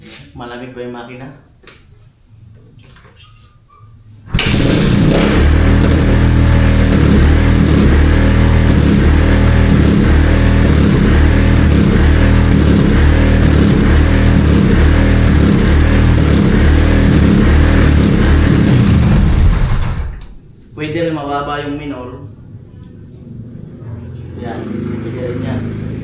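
A cold motorcycle engine on choke bursts into life and revs loudly and steadily for about fifteen seconds before cutting off, with someone talking nearby before and after.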